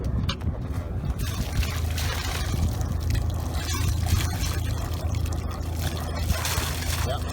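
Engine cooling water spills from the exhaust over the stern of the Jeanneau Sun Odyssey 379 yacht Otter, a steady gurgling pour and trickle close by, with wind noise and faint talk underneath.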